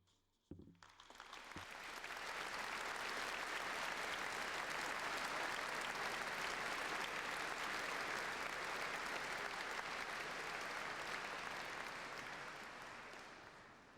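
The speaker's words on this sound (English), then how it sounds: "now they deserve our congratulations and our applause" A crowd applauds students at the Sparsholt College awards ceremony, a sustained, full burst of clapping that rises quickly after a brief pause, holds steady for many seconds, then slowly tapers.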